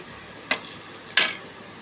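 Black cumin dropped into hot mustard oil in a home kitchen, two sharp hissing sizzle bursts about half a second apart over a faint steady frying background, close and without talk.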